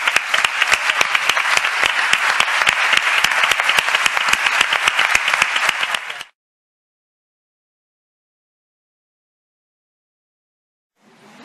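Audience applause at a mind-body medicine conference in a foundation hall, steady dense clapping for about six seconds that stops abruptly, followed by silence and a faint sound at the very end.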